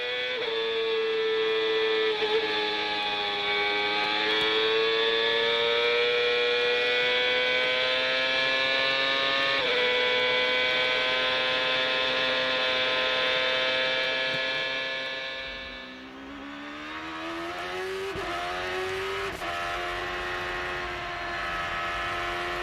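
An IndyCar race car onboard at Road America through the Carrousel holds a long, steady, high-pitched engine drone. The pitch dips briefly near the end and then settles back as the throttle is balanced, with no voices.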